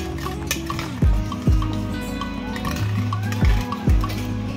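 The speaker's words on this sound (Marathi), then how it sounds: "मिक्स करायचं बघ त्याला।" Pancake batter with vanilla essence and milk is stirred in a bowl, giving a few sharp clanks about a second apart over a steady background of music and kitchen noise.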